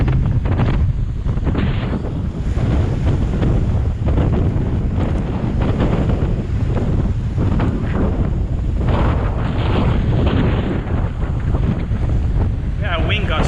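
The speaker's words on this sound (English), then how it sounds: "Yeah, a wind gust right there." Strong wind gusts from Tropical Storm Isaias roar continuously into the microphone on a beach at low tide in Bensonhurst, Brooklyn, with surging buffeting noise and surf-like rushes and no clear speech.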